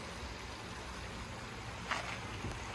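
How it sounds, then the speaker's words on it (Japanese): A small stream flows below, heard as a steady, soft wash of rushing water with a continuous hiss and a couple of faint splashes, with no voices over it. "水のせせらぎの音を聞きながらここで"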